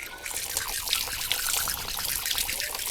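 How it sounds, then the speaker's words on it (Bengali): Water trickles and pours over a hand during ablution (wudu), a close, continuous splashing dribble with small irregular spurts lasting throughout, no speech over it. "আমি বাম হাত ভিজিয়ে নিলাম"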